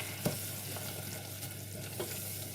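Plain flour cooks in melted butter in a pan while being stirred, making a soft, steady sizzle with occasional faint scrapes and a light tap, heard up close with no talking.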